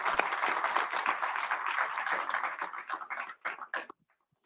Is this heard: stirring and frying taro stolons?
no